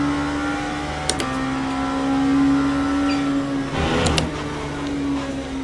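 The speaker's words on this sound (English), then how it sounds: "that squeaky noise you're hearing through the mic is absolutely my accelerator" A squeaking accelerator pedal on a sim racing rig gives a steady, tonal beep-like squeal that holds for long stretches, under a low car-engine drone from the racing game. A few sharp clicks cut in over it.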